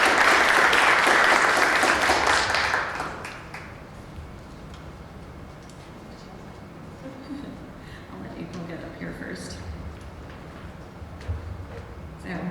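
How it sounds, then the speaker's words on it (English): An audience at a campus awards ceremony claps loudly for a faculty award recipient for about three seconds, then the applause dies away into quieter room noise with scattered sounds. "which I think we all heard with the clapping in the room"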